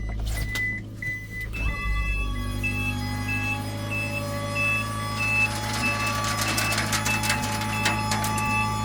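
A Subaru mini dump truck with a fuel-injected engine idles while its bed is raised, a steady hydraulic motor whine under a regular series of beeps, close by.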